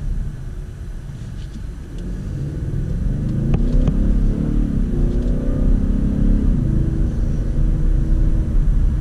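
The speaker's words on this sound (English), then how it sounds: "engine noise are" Turbocharged engine of a 2017 Ford Fusion Sport pulling hard as the car accelerates, a loud low rumble whose pitch climbs steadily through the run, heard from inside with no talk.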